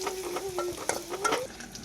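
Onion and asafoetida tempering crackles and sizzles in hot oil while a spoon stirs and scrapes the pan, a dense close frying hiss with a faint tonal squeak running through it.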